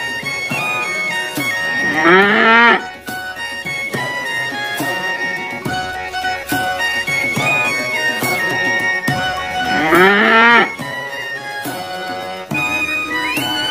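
A cow and calf moo in two drawn-out, rising calls a few seconds apart, mixed over a busy children's music track.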